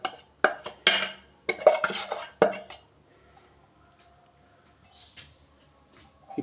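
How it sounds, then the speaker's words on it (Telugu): Metal spoon clinks and scrapes in a bowl as chilli powder is stirred into mango pickle: a few sharp, close knocks over about three seconds, then near silence with a faint bird chirp. "కారం కూడా, అది కూడా ఇందులో వేసుకొని కలుపుకుంటున్నాను"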